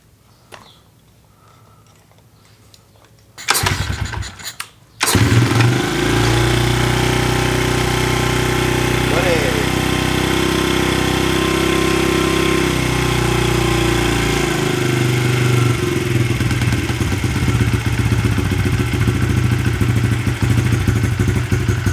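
A Honda CRF70 motorcycle engine, freshly fitted with a cleaned carburetor, starts after a brief cranking burst and settles into a loud, steady close-up idle with a slight rise in revs partway through.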